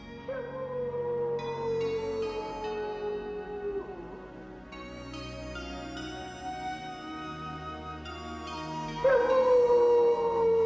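A wolf howls in a French-dubbed animated Simba the Lion King episode, with long sustained howls, a second voice joining near the end, and music underneath.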